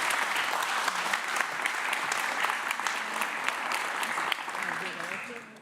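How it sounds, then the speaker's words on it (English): A large audience applauds steadily at a DevOps conference in Amsterdam, a dense, sustained wash of clapping that holds for several seconds and thins out toward the end, with some voices mixed in. "really do a huge round of applause and welcome"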